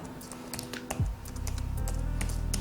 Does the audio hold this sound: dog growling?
no